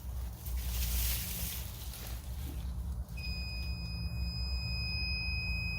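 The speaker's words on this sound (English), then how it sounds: "my timer is going off from my battery charger" A battery charger's timer goes off partway through with a steady, high electronic beep of several tones. It comes after a stretch of faint low background hum and keeps sounding to the end.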